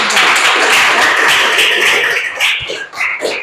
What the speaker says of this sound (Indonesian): kasih tepuk tangan dulu untuk perwakilan kelompok